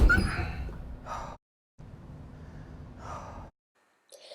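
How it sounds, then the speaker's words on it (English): A man's quiet, heavy breathing in ragged bursts with a dog's soft whimper mixed in, separated by short silences. "the dog whimpering, and him heavy breathing"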